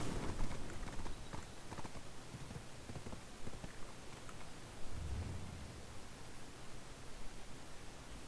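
Horse hooves clip-clop steadily in an online game, a quick regular rhythm of soft thuds over faint background noise, nearby and moderately quiet throughout.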